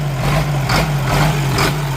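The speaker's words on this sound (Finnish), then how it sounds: "Muuten käy nyt ilman vesiä tuo moottori" Diesel engine idling without coolant, a steady low rumble close by with a constant hum and rhythmic pulsing, no voices.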